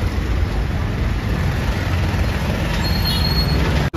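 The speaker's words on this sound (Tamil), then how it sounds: "10:30 மணிக்கு எவ்வளவு டிராஃபிக் பாருங்க" Dense night street traffic near Charminar in Hyderabad, a loud continuous roar of engines and road noise close by, with a faint high squeal partway through.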